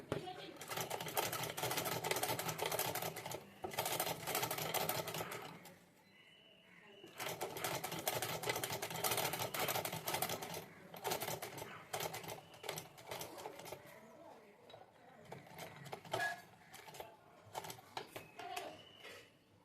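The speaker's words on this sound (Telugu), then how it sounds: "చూడండి చీర క్లాత్ మీద ఎలా పడిందో స్టిచ్చింగ్ ఓకేనా" A stitching machine runs in bursts over saree cloth, its rapid mechanical chatter close and steady with a short pause midway, while a person talks over it.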